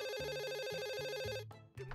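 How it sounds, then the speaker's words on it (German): An indoor telephone rings with a quick, repeating electronic ringtone melody in a household scene, clear and steady before cutting off near the end, with no talking. "Oh, das Telefon klingelt."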